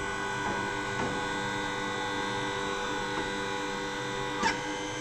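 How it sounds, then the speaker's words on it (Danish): A spring compressor machine pressing a shock absorber spring together hums with a steady, close electric drone throughout, broken only by a few faint ticks. "Og når det så er, så kan vi presse vores fjeder sammen."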